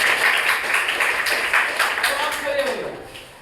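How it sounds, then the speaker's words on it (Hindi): A classroom audience claps together in a burst of rhythmic applause, close and fairly loud, fading toward the end while someone speaks over it. "बहुत अच्छा, जोरदार ताली बजाइए इनके लिए।"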